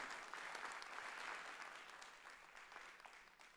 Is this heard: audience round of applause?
yes